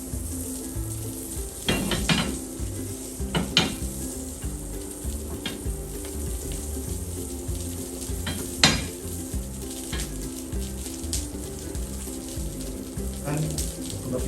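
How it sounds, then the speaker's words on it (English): Butter melts and sizzles in a frying pan while it is spread around, giving a steady low frying hiss with occasional sharp scrapes and clinks of the pan. "Take the butter off and allow it to melt. Gently spread the butter around the pan."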